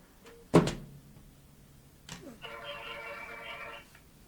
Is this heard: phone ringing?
yes